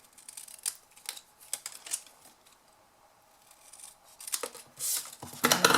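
Scissors cut blue paper craft pieces for a penguin mug project, giving a run of quiet, close, crisp snips in irregular rhythm that grow louder toward the end, with no talk.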